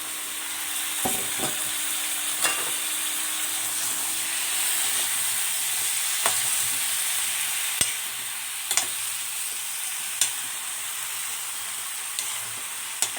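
A jatilao spice mixture fries in a pan with a steady hissing sizzle, punctuated by occasional light scrapes and taps of a stirring spoon, with no talk over it.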